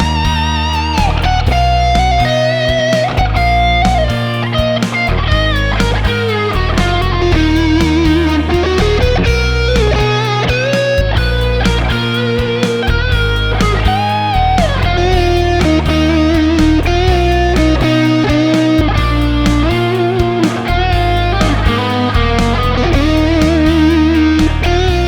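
Continuous distorted electric guitar playing through Kemper Player and Tonex amp profiles, a steady stream of overdriven chords and riffs with effects, loud and dense throughout with no talking.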